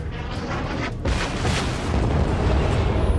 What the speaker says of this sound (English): Trade a little bit of gunfire with him